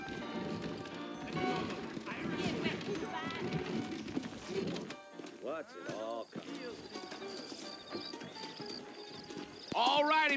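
Horses' hooves clip-clopping in the Red Dead Redemption western video game, a steady trotting rhythm beneath game dialogue, with bird calls and occasional whinnies in the open-air setting.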